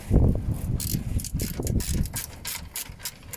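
A ratchet wrench undoes a bolt at a chassis grounding point on a 2011 Vauxhall Zafira B, giving a run of quick, close mechanical clicks in uneven bursts, with no talking.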